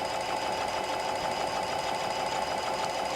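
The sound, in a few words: Janome Continental M7 sewing machine stitching fabric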